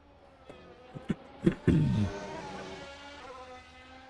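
A BMW race car on an out lap in a racing video game, heard faintly. A few soft clicks come first, then the engine rises into a brief louder tonal whine that fades back to a quiet hum.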